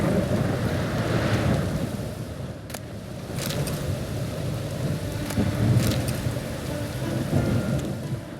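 Steady heavy rain pours throughout a video game thunderstorm, with sharp cracks of thunder and low rumbling rolling underneath, a dense, continuous storm.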